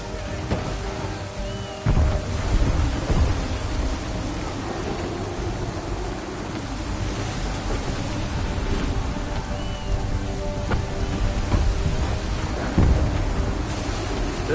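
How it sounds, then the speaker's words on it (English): Thunderstorm at sea in Assassin's Creed 3, heavy rain and wind roaring steadily with deep thunder rumbles cracking in around two and thirteen seconds, loud and close. "There's a storm coming, Captain."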